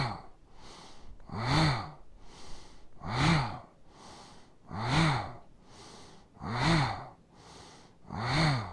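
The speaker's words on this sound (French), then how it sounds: "On pourra y faire aussi le soufflet fameux abdominal, le soufflet de la forge ou du forgeron" Forceful yogic bellows breathing, Bhastrika, done through the abdomen: loud, close, rhythmic whooshing breaths, each a strong nasal inhale-exhale cycle repeating roughly every second and a half, with no talking.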